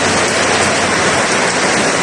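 Steady, dense rain pouring down nearby, a continuous loud wash of hiss with no pauses and no voices.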